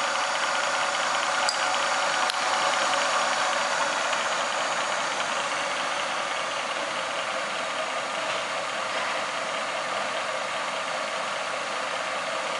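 A Supermax YCM 1-1/2 VS vertical mill, a 2 horsepower variable-speed knee mill with a 9x42 table and R8 quill, runs with the power feed engaged, giving a steady, even motor hum and whine with no talking.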